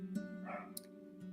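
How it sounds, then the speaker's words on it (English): A dog barks in the background of a house, a few brief, faint barks spread out over a steady tonal drone. "Apologies for the barking in the background."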